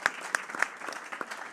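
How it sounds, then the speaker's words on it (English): A few scattered claps from a small audience greeting panel guests onto a stage at a talk on data and algorithms, sparse and uneven, moderately quiet, lasting just over a second. "And applause for Mirte and Paulina."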